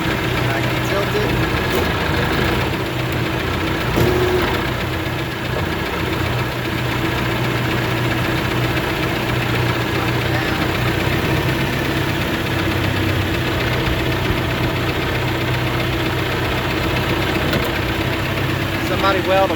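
John Deere 450C bulldozer engine held at low idle, a steady, loud, unchanging mechanical rumble with a faint knocking texture running continuously throughout.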